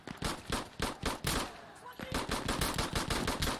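Rapid automatic gunfire in the video game Insurgency: Sandstorm, loud and close, rattling in dense repeated bursts with only a brief lull midway.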